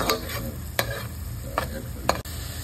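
Spice paste being stirred and fried in a pan for hilsa fish curry, with a steady low sizzle broken by several sharp scraping stirs at close range.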